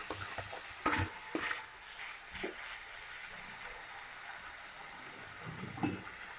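Roasted spice paste is stir-fried in a pan for Bengali shukto, a quiet low sizzle broken by a few sharper scraping and clattering stirs near the start and end.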